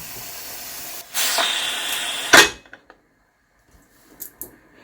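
A pressure cooker cooking rice on a stove lets out a loud, steady hiss of steam for over a second. It ends with a sharp metallic clang, followed by a few faint clicks and near silence.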